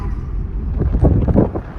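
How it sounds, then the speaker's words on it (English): Wind buffeting around a Toyota Prius, a low rumbling gusty roar close to the microphone, rising and falling over a couple of seconds. "Very windy out here."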